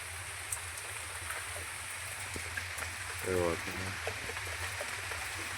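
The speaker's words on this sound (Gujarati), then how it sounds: "ધબડાટી બોલે છે વરસાદની." Steady heavy rain pours down in a dense, continuous hiss, with a brief faint voice partway through.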